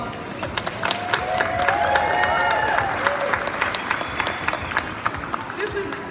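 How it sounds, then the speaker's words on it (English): Audience applause for models at a fashion show, a full steady clapping wash with some cheering, while voices talk through it. "can we just give our models a round of applause?"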